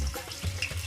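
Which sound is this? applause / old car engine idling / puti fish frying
puti fish frying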